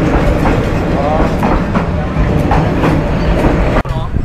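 A train rolls past close by in the old quarter of Hanoi, a loud continuous rumble with rhythmic clickety-clack of wheels on rail that drops off abruptly near the end.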